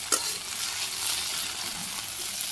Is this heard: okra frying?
yes